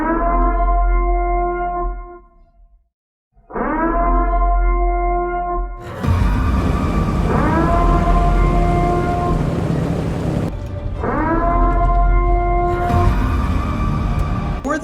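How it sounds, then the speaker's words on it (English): A loud rising and falling air raid siren wails continuously amid dense War Thunder game noise and rumbling, with a brief drop to silence early on. "This is your emergency broadcast system. Commencing at the siren."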